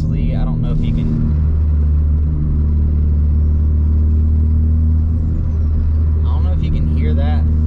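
Garrett G25-660 turbo on a built Ford Focus ST gives a faint high whistle that rises and falls over a steady, loud engine rumble heard from inside the car, with brief muffled voices at the start and end.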